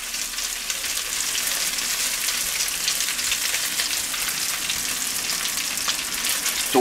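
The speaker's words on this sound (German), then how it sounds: "dass wir jetzt die Steaks noch von der anderen Seite noch ein klein bisschen anbrutzeln" Steaks and onions searing on a grill for steak rolls with onions, a steady loud sizzle and crackle with no break and no voices.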